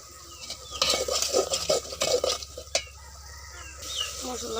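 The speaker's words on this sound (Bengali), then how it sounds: "মশলাটা কষিয়ে নিব।" Spice masala is fried and stirred in a pan, with spoon scrapes and clatters over a low sizzle and a sharp knock partway through.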